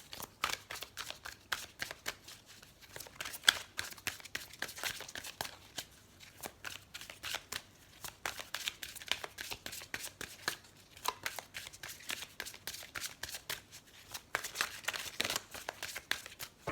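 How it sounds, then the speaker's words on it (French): A deck of tarot cards is handled, shuffled and drawn in a quiet room, giving a continuous run of close, crisp riffling, flicking and papery snaps that come in irregular bursts for well over fifteen seconds, with no voice. "On va d'abord tirer une carte pour le 8 février."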